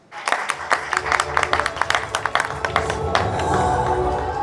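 An audience applauds athlete Kélia at an evening celebration of a partnership with Ooredoo, the claps starting sharp and distinct, then thickening into a steady, sustained ovation.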